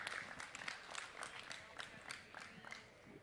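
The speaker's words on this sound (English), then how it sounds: "Let's give him a big round of applause as he wins the crossbred deal." A round of applause from the crowd at a 4-H/FFA dairy cattle show at a county fair, steady clapping filling the space for a few seconds with faint voices mixed in.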